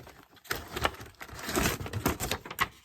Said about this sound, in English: I'm just going to pull the tape